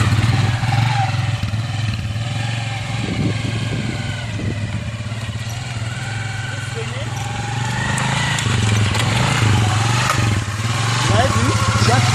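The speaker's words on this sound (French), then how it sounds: "j'ai appuyé mon frein à pied, accompagné de mon frein à main pour freiner très rapidement la moto" A motorcycle idles and rumbles close by while the rider applies the foot brake and hand brake together to stop quickly, and someone talks over the steady engine drone.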